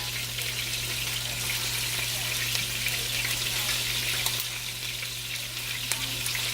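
Food sizzles in olive oil in a pan for a spaghetti meal, a dense, constant crackling hiss with tiny pops, close and even from start to finish over a low steady hum.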